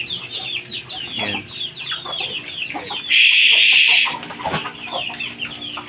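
Chickens on a pig farm cluck and chatter continuously, close and fairly loud, with a brief loud burst of squawking in the middle; a voice speaks briefly.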